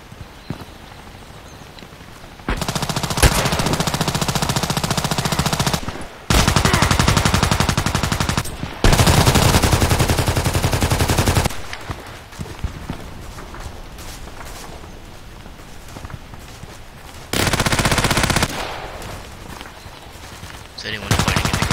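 Gunfire in the shooter game Contract Wars comes in several long, loud sustained bursts separated by quieter stretches with scattered single shots and faint movement.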